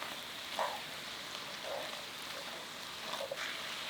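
Pork and onion stir-frying in a pan for a soybean paste pork dish, a steady soft sizzle with faint scattered pops and stirring clinks throughout.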